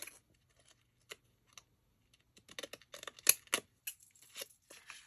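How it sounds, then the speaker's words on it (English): Quiet, irregular clicks and snips of hairdresser's thinning scissors cutting paper cards, sparse at first, then a quicker flurry of small crisp cuts, close up. "thin end scissors."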